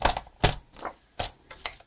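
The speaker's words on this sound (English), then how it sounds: "I'm going to cut this out with my trimmer." A paper trimmer slices through card stock in a few short, sharp, close strokes with gaps between them, crisp clacks and swishes heard alone.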